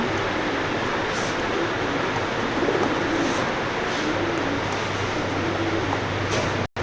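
Racing pigeons coo softly and repeatedly against a constant low background rumble, with no one speaking.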